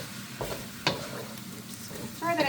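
Broccoli and snow peas stir-fried with beef and onion in a hot pan, a loud sizzle broken by a few sharp tossing scrapes, the clatter picking up again at the end.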